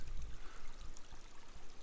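A small, pretty forest creek in Shawnee National Forest flows in a steady, soft trickling wash with some low rumble, continuous and fairly close, with no talking.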